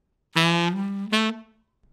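A saxophone plays "doo" then "do" articulation, two separate tongued notes. The first is longer and the second shorter and slightly higher, played up close with no talking.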